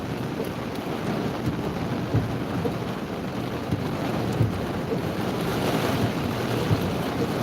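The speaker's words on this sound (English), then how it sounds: "This is just sheets and sheets and sheets of rain coming down here." Heavy rain pours in dense sheets with gusting wind during a tornado outbreak storm chase in Dixie Alley, a loud, steady roar of rain and wind buffeting the microphone with occasional thumps.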